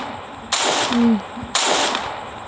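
Two sharp gunshot cracks about a second apart from a cyborg character in a video game, each with a short decaying tail, with a faint tonal blip between them.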